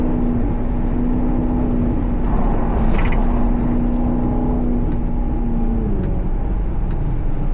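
Maserati GranTurismo with a 6-speed automatic, its engine droning steadily from inside the cabin while driving, a constant low tone holding throughout with a brief swell near the middle.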